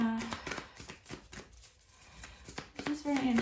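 Tarot cards shuffle by hand in quick papery riffles and soft slaps, close and steady, mixed under a person talking.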